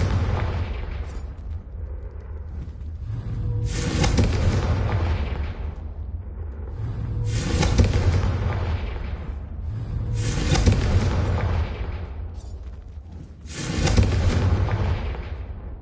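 Repeated Confringo blasting-spell explosions in the Hogwarts Legacy video game, four loud booming bursts spaced a few seconds apart, each with a crackling tail, over a steady game ambience.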